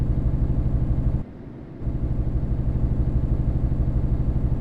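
Engine brake on a Scania T 4-Series truck in Euro Truck Simulator 2, a steady loud low rumbling drone with a brief dip in the middle before the throbbing resumes.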